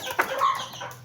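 Aseel hens clucking briefly while being fed flour, a couple of short clucks up close.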